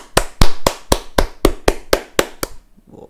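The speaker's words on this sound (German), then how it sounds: "Dafür gibt es auf jeden Fall einen Applaus" About ten sharp, evenly spaced claps in a quick steady rhythm, close and loud, stopping abruptly near the end.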